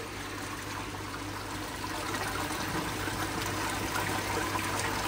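Water pours steadily into a Nexus 320 Gravity unit during cleaning, a continuous rushing, trickling flow that holds steady and builds slightly in level, close and alone without talk.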